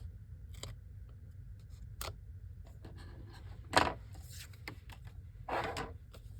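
Scissors trim a small piece of paper card for a handmade Christmas card in a quiet room, making a few faint, soft snips and light rustles with one brief louder cut.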